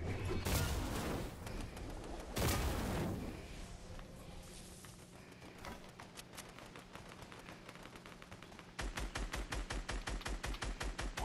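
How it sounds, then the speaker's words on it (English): Enemy gunfire in Fortnite: rapid bursts of shots, some heavy and close early on, then a fast, steady stream of repeated shots near the end, loud and without talk. "they're shooting at us."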